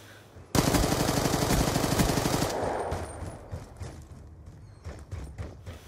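Loud sustained automatic gunfire in Black Ops 2 rattles for about two seconds, then fades into scattered, more distant single shots.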